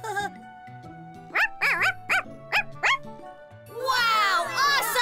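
A cartoon voice playfully imitating a yapping puppy, giving a quick run of five or six high barks over soft background music, followed by a burst of other speech.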